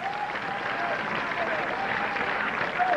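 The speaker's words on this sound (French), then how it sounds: "On applaudit le Seigneur" A congregation at an evangelical crusade applauding, a steady wash of many hands clapping throughout, with voices faintly audible underneath.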